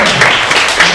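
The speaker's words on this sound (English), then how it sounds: "big round of applause for Jeremy" An audience gives Jeremy a round of applause, a brief loud burst of many hands clapping together close by.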